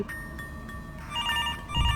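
A telephone rings in the horror game Mr. Hopp's Playhouse, a faint repeated electronic trill rising out of a dim droning backdrop, ending with a low rumbling thud.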